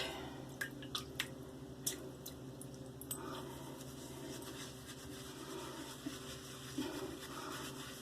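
Shave brush lathering Ariana N. Evans Asian Plum shaving soap, wet squishing and swirling with a few sharp taps and clicks, close and fairly quiet, steady over the whole stretch.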